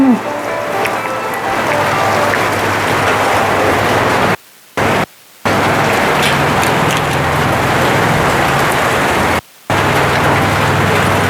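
Steady rain pours down outdoors as a dense, even hiss that runs almost unbroken for about eleven seconds, with only a few brief dropouts.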